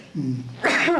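One close, loud human sneeze: a short voiced intake, then a sharp, breathy burst that trails off quickly.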